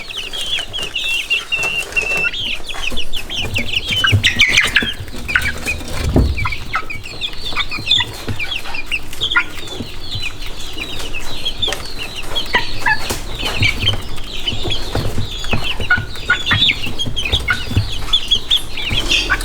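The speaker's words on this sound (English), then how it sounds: "So far these are some very nice dun-mottled Wyandotte bantam chicks" Dun-mottled Wyandotte bantam chicks cluck and peep continuously at close range, a busy overlapping chorus of small high calls with occasional soft scuffling.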